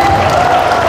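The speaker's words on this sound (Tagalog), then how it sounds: "Tinatamad na yata kayong pumalakpak." An audience at a church anniversary gathering applauds in a dense, steady patter that stays unbroken for the whole moment, with a faint hum beneath.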